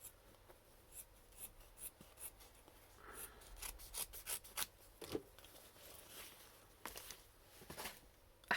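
Scissors cut roughly through denim from a pair of jeans with irregular snips and rustling fabric, mostly soft and close by, with a few sharper crunches and no talking.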